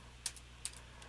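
A few faint, quick clicks come from a computer keyboard during typing at a Windows desk, with two or three keystrokes close together over a low steady hum.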